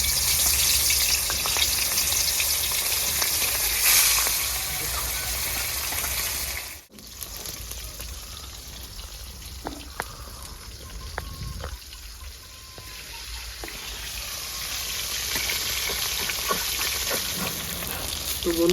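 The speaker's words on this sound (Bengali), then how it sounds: "তেল গরম হয়ে গেছে, মাছটা ভেজে নেবো।" Rupchanda fish fries in hot oil in a pan, a loud continuous sizzle that briefly cuts out, then resumes with occasional stirring clinks and spattering pops.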